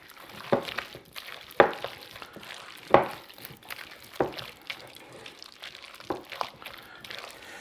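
A fish mixture with lemon zest being stirred and pressed in a bowl, with soft wet squelches and scrapes in irregular strokes, close and fairly quiet.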